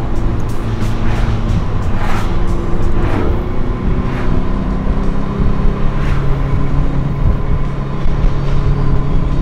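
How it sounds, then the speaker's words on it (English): Cars rushing past on a dark road at night, a steady loud engine and road roar with repeated swooshes of passing vehicles, no voices. "I see hella cars coming back now"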